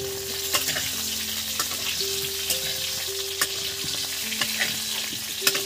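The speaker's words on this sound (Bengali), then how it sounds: "আলুগুলো একদম লাল লাল করে ভেজে নেবো" Large potato pieces fry in hot oil with a constant close sizzle. Periodic clinks and scrapes of stirring sound over the frying, and a faint hum runs underneath.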